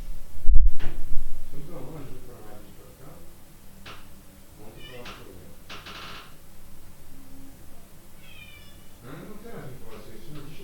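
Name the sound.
cat meowing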